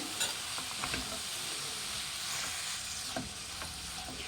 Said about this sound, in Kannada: ಈಗ ಅರಿಶಿನದ ಪುಡಿ ಹಾಕ್ಕೊಳ್ಳೋಣ. ಮಿಕ್ಸ್ ಮಾಡಿ ಚೆನ್ನಾಗಿ.